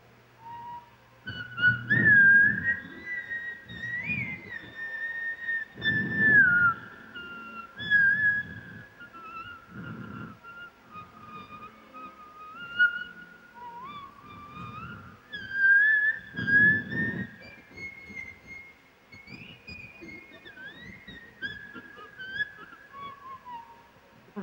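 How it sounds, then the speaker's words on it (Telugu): A boy whistles a song alone, a clear, melodic tune with gliding notes and short pauses, steady and close throughout, over faint low background sounds. "Can you whistle?"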